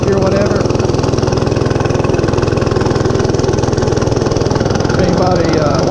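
A Monster Moto 105 mini bike's small engine runs steadily at close range, a loud, even buzzing drone with a rapid firing pulse, while a person talks over it.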